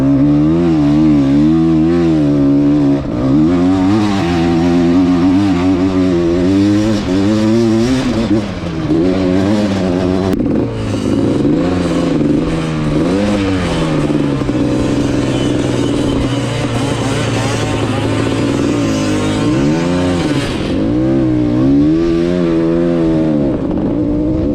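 Small vintage quad ATV, a Tecate 4 or Quadracer, revving hard while spinning donuts, the engine note rising and falling continuously in loud close bursts with no talk over it.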